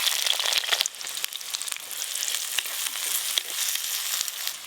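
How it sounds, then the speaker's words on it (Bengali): Chopped onions hit hot mustard oil in a clay pot, setting off a bright, crackling fry that is loudest at first then settles into a steady close sizzle with light stirring scrapes, no voices. "প্রথমেই দেব পেঁয়াজ কুচি,"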